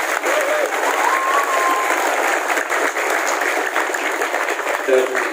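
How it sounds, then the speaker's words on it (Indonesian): Sustained audience applause at a gathering of Islamic boarding-school students, an even, continuous wash of many hands clapping with faint voices carrying through it, fairly loud from start to finish. "Tepuk tangan untuk kalian semua."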